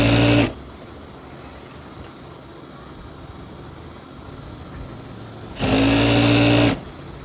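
A sewing machine stitches fabric for a small child's salwar in two short, loud, close bursts of rapid whirring, one at the start and one near the end, with quiet in between.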